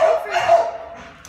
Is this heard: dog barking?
yes